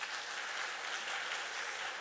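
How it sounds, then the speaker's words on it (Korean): Audience applause in a church hall at a Sunday worship service education seminar, steady dense clapping that fills the whole moment, loud and sustained with no voices over it. "박수를 칠 때는 내 손바닥이 아플 정도로 함성과 함께 박수를 쳐야 저희가 박수 취급을 하는데요"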